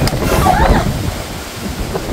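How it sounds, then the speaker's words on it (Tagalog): Strong gusting wind from Typhoon Uwan buffets the microphone during a nighttime power outage, a loud, continuous rumbling roar. "Malakas ang hangin."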